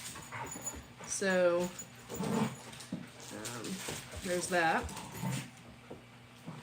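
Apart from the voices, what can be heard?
dogs whimpering and yipping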